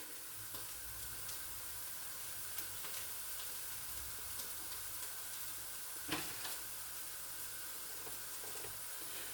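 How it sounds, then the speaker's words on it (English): Steady sizzling and crackling of curry spices frying in a hot pan, with occasional soft clinks from stirring, continuous and fairly close. "so we've got that frying off"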